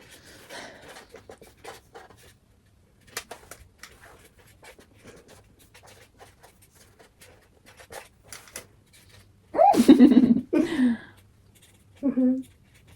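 Pen scratching on paper as answers are written down during a sibling quiz game, faint and intermittent, with a few brief spoken words and breaths near the end.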